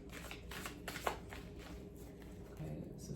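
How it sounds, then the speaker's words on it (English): A deck of oracle cards being shuffled by hand indoors, giving a few soft papery riffling bursts close by with a low background hum and no talking. "I just want to do another quick shuffle on these here"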